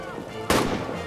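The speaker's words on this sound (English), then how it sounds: "I think they just got grenaded" A single loud grenade blast in the World War I trench game All Quiet In Trenches, a sudden sharp burst over a low rumbling battlefield hum, with a brief voice nearby.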